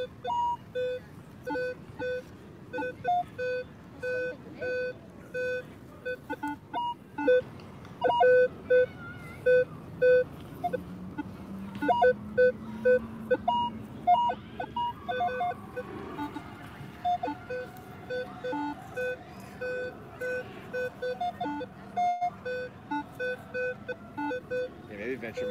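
A metal detector sweeping a lawn in Central Park, New York City, gives a false alarm, sending out repeated short electronic beeps in a steady rhythm while people talk close by throughout.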